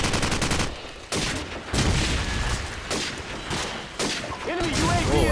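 Gunfire in Call of Duty 4 comes as dense bursts of rapid shots and booms, broken by short gaps. Players' voices talk over parts of it.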